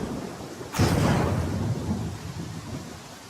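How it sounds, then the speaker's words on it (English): In the video game Pathfinder: Kingmaker, a sudden close thunderclap breaks over steady rain, then rolls on in a long, fading rumble while the rainfall continues underneath. "Why do you always walk when it's raining and thundering and stuff?"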